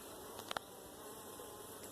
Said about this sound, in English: There's bees, wasps, and flies, some of which are the size of like a freckle